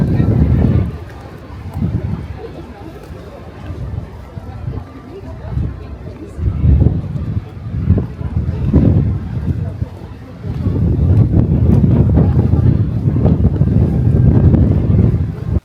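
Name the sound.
wind blowing on a misty volcano, Hakone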